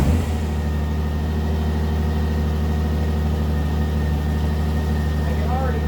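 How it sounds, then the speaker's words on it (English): A 2001 Honda Goldwing motorcycle engine idling steadily after its air filter change, with a constant low rumble running close and loud the whole way through and no talk. "Let me just fire it up again here"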